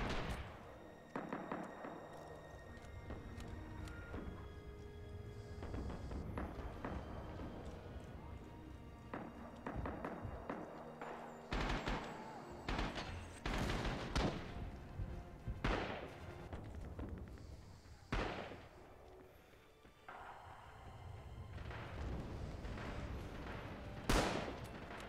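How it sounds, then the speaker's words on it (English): Mortar blasts and gunfire fill a battle in Red Orchestra: Rising Storm, fought on the USMC side. Loud, sharp explosions and cracks hit at irregular intervals over a constant rumbling din of combat. "he used that mortar like a fucking rocket launcher"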